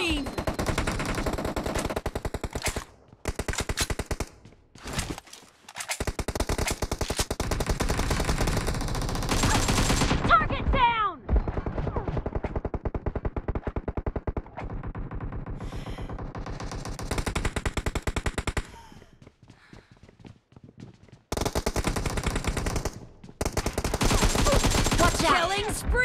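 Rapid automatic AKM rifle fire in a team deathmatch video game comes in repeated long bursts with short pauses between, loud and close, while game voice callouts speak between bursts.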